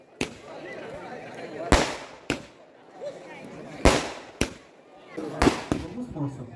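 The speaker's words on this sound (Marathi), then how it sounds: "फटाक्यांची आतषबाजी" Firecrackers burst during a village cricket premier league, a string of sharp, loud bangs at irregular intervals over a murmur of voices and crowd noise.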